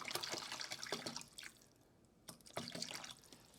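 Water is poured into a measuring cup, a faint, close trickle and splash in short bursts with a brief pause in the middle before pouring resumes.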